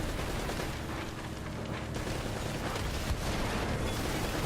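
Loud, dense burst of weapon fire and explosive blasts from a rocket launcher in the Uncharted action video game, a continuous roaring barrage with rumbling low end and no pause across the stretch.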